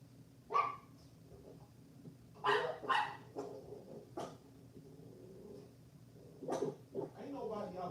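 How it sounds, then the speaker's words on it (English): A dog barks in short sharp bursts outside at night, with a few separate barks spread across the moment and people's voices talking nearby. "I heard the bark"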